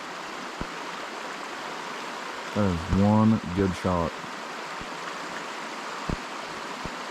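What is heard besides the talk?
creek flowing at night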